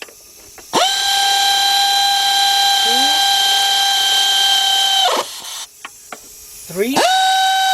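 A pneumatic air ratchet runs a 12mm nut onto a bolt during an Acura SLX / Honda Passport timing belt and water pump job: a loud, close, high whining spin that holds for several seconds, then short bursts with clicks.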